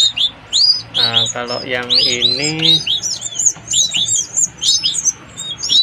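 Canary chicks chirp in rapid, high, bright bursts close by, with a few longer warbling calls in the middle as someone speaks briefly over them.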